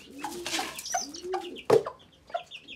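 A hen on a small backyard poultry setup with chicks and pigeons, giving several short clucks and throaty calls in irregular bursts, close by and moderately loud, with one sharper squawk midway.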